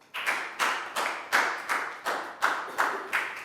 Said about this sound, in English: Big round of applause for Pat, guys.